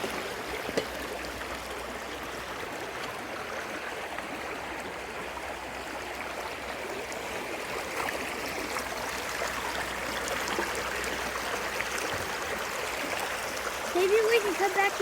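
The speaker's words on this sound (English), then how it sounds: "I wonder what the name of this creek is." A small creek runs steadily through a nature preserve, its soft continuous wash of flowing water close by, with people talking faintly over it and a brief louder splash near the end.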